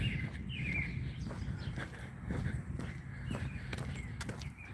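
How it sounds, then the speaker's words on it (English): Birds chirp faintly in a park over low, steady outdoor rumble, with scattered short tweets and occasional footstep-like thuds nearby. "Listen to the beautiful birds,"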